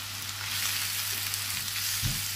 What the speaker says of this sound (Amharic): ከዛ አብሬ በዝቅተኛ እሳት መጠን እጠብሰዋለሁ።